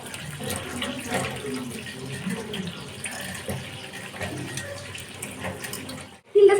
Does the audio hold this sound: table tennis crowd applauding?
no